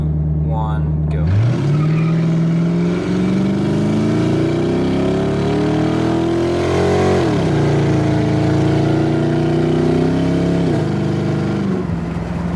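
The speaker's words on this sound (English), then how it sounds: "I'm gonna kind of brake boost it and then floor it and then time it on my phone." A Ford Crown Victoria accelerates hard in a 0 to 60 run, its engine climbing loudly through rising revs, dropping at each gear change, then climbing again, heard from inside the car.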